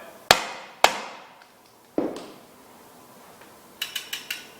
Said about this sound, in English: Just tap it home with the rubber mallet.